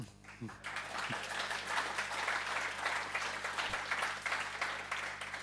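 A conference audience breaks into applause after a talk, a full, even roomful of clapping that starts abruptly and holds steady for several seconds in a large hall.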